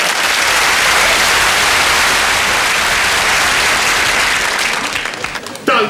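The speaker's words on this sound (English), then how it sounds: "Don't cheer." Loud, sustained audience applause and cheering in a television comedy studio, a dense wash of clapping that holds steady before fading near the end, with a brief voice cutting in.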